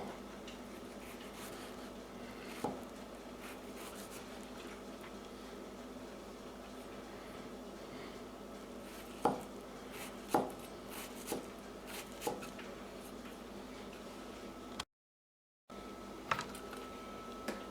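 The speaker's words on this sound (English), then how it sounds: "And take the time to cut it extremely fine." A knife chops shallots and chives very finely on a board. Quiet, sparse taps come mostly in a short cluster, set against a faint, steady background hum.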